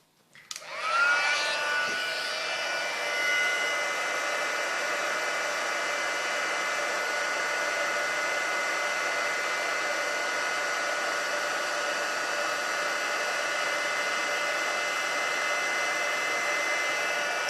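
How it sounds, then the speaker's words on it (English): An embossing heat tool clicks on and spins up into a loud, steady, close-up whoosh of hot air that holds unbroken for the rest of the clip. "Heat tool's going to come out again."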